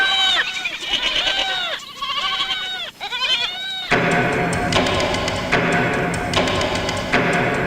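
A goat bleats repeatedly in wavering, tremulous calls at close range for the first few seconds. A loud burst of music then takes over and covers the rest.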